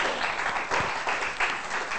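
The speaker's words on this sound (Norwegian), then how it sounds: "Applaus! Ja." An audience applauds at the close of a student study-skills course talk, a dense steady wash of clapping sustained for about two seconds with no speech over it.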